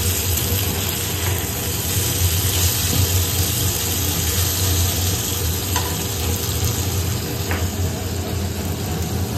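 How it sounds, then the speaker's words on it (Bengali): Chicken kidneys fry in a pan with a loud, dense, unbroken sizzle heard up close, steady for the whole stretch with no voices. "এটাকে আমি এখন ভাজা করছি।"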